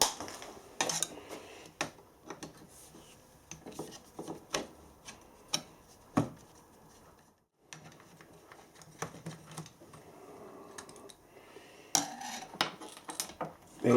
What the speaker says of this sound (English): Now we're going to take the cover off here and put some new grease in.